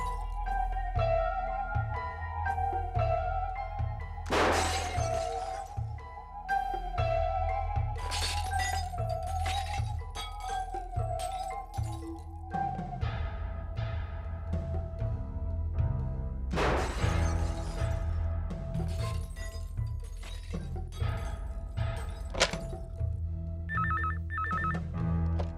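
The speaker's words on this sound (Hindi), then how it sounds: "यहाँ बिल्डिंग के इतने सारे कांच टूट रहे, इतना शोरगुल हो रहा" Building glass windows shatter in a horror story sound effect: a phone rings repeatedly over a pulsing low beat, then loud crashes of breaking glass come in several bursts, with scattered tinkling shards afterward.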